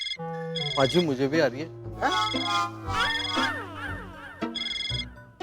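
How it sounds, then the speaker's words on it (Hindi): A phone rings with a bright electronic ringtone, with repeated melodic bursts running under steady Hindi conversation, in a comedy scene. "तो मेरे फोन में घंटी बज रही है"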